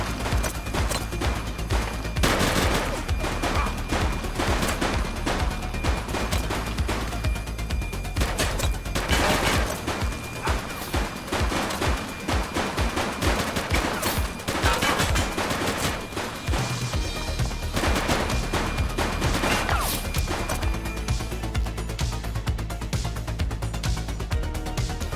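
Sustained bursts of gunfire and automatic weapon fire from The Precinct, a police action video game, loud and dense throughout with repeated fusillades and crashing impacts, no talk.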